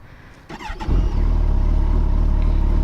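A Kawasaki Concours 14 motorcycle engine cranks with a brief starter whir, then catches and settles into a steady, loud, close idle with an even low pulsing throb.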